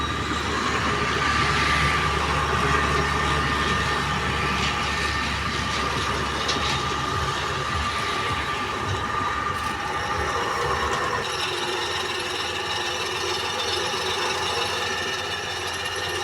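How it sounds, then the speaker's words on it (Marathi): A drilling machine runs steadily in an ITI workshop, a continuous loud mechanical drone with a whining tone that shifts character partway through, with no voices over it. "तर झालेलं आहे आपलं वेल्डिंग ड्रिलिंगचं काम चालू"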